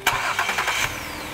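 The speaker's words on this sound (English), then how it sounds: "start the donor car" A donor car's engine cranks with a few rapid starter whirs, then catches and settles into a steady idle, close and clear, while jump-starting a car with a dead battery.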